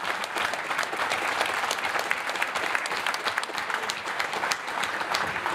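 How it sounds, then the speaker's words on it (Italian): A hall crowd claps steadily and densely for several seconds in honour of a town's past mayors, loud and sustained, with no voices on top. "Un applauso a tutti questi sindaci."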